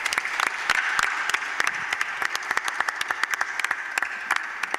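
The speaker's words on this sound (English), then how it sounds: "I'd really appreciate if you'd give him a round of applause" An audience at a university athletics press conference applauding, dense steady clapping from many hands at moderate distance that thins into scattered individual claps toward the end.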